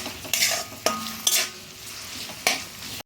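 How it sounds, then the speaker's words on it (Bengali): Onions frying in a pan for chicken korma, a steady sizzle broken by several sharp stirring scrapes and clatters of a utensil against the pan, close and clear with no talking. "আমি পেঁয়াজটাকে ভেজে নিচ্ছি, একটু সময় ধরে ভালো করে ভেজে একটা ব্রেস্তা তৈরি করে নিচ্ছি।"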